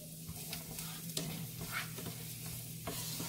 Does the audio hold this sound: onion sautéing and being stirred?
yes